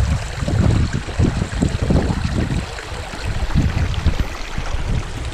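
Cold stream water trickles and splashes steadily as water is collected on a mountain hike, a close, continuous babbling with low gurgles and no talking.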